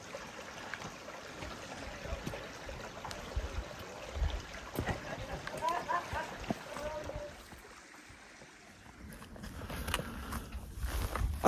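Cave Creek Wash in Arizona running along a desert trail, a soft trickling stream heard faintly, with scattered footsteps, brief louder rustles and a sharp noise at the end.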